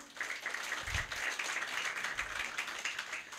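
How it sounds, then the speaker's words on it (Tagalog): Church congregation applauding during a Sunday service, a steady stream of many hands clapping at moderate distance, fairly even in loudness with a few low thumps underneath. "pinakamalakas na palakpak sa Panginoon."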